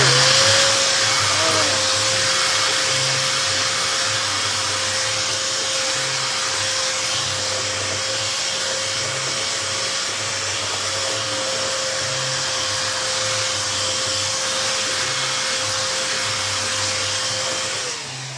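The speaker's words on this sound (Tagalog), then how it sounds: "ito ang aking gamit, yung aking belt sander" A loud, steady belt sander whine with a continuous abrasive hiss as it sands wood, running unbroken for the whole stretch, close by.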